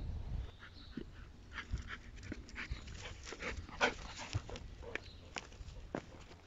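A dog pants and whimpers close by among outdoor ruins, quick breathy puffs mixed with small whines and footsteps on the ground, fairly faint overall.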